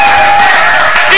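Church congregation cheering and applauding after a testimony, a loud close roar of crowd voices and whoops with clapping mixed in, sustained across the whole short burst.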